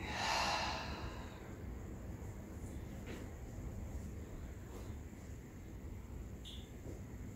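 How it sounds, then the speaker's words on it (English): A single deep breath is pushed out through the mouth during a gentle yoga flow: one soft, airy exhale at the start, close and quiet, followed by near-silent room tone. "Exhaling out through the mouth."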